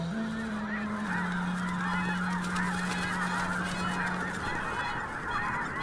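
A huge flock of red-breasted geese honks in a dense, continuous clamour of overlapping calls, loud and steady throughout, with a sustained low tone underneath and no speech.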